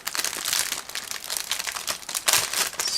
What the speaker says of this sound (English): it's really difficult task to get everything out of the plastic bag